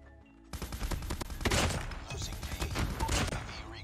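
An M4 LMG fires in Call of Duty multiplayer, loud sustained automatic bursts rattling almost without pause, with thumping impacts mixed in.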